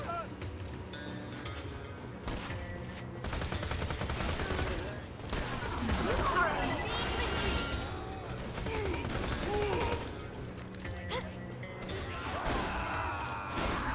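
Rapid-fire elemental gun shooting in Borderlands 2, a dense fusillade of quick shots running continuously under busy game effects and crashes.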